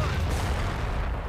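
A grenade explosion in Company of Heroes, a World War II strategy game, heard as a continuous heavy low rumble with booming artillery-like energy throughout a short burst.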